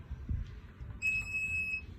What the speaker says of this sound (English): Beep simply says the system's coming on.